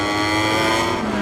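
Ducati GP22 MotoGP racing motorcycles scream past in a race, a loud, sustained high-revving engine wail with a steady, slightly shifting pitch.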